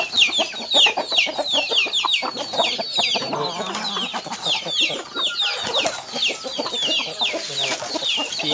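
A yellow chicken with a white tail clucking with other fowl nearby, a dense stream of rapid, close clucks and squawks that keep going without pause.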